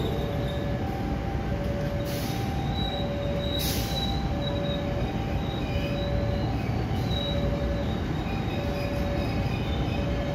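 The Purwajaya long-distance train rolls steadily into Bekasi station, with a constant rumble of wheels on rails and thin metallic squeals rising and fading, a wagon-heavy drone with no voices.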